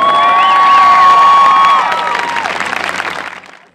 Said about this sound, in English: big round of applause for the USO